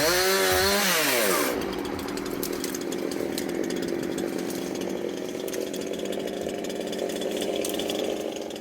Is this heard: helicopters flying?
no